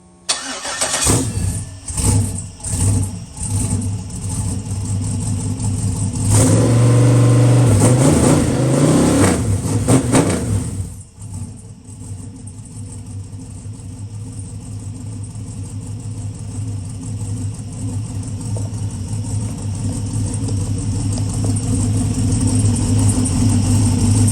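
A Gen 4 GM V8, a 6.2 LS3 or 6.0 LY6 on a test run with aftermarket mufflers, cranks in a few quick bursts, fires into a loud roaring rev, then settles into a steady, throbbing idle that holds close and strong for the rest of the clip.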